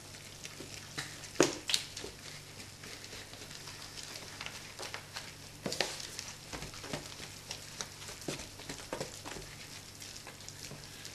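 Sourdough bread ingredients are stirred together in a bowl, giving soft, irregular wet squelches and scraping taps, faint and close, without talk.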